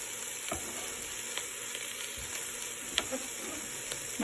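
Garlic hits a pan of onions that are already sizzling, giving a steady close frying hiss with a few soft stirring knocks and pops and no talking.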